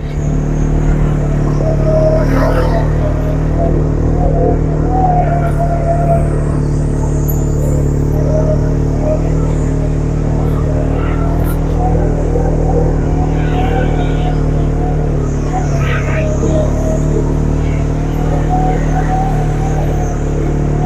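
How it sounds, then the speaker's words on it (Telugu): Motorbike engine running steadily with a deep continuous rumble and occasional revs, loud and close throughout on a trip around Shimla, with no voices. "motor bike"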